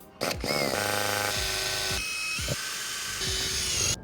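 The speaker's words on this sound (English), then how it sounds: "Now I'm gonna drill some pilot holes for the jigsaw." A power drill whines up to speed and bores pilot holes in a van roof in a few short, high-pitched bursts, pitch shifting as the bit bites; close and loud, no talking.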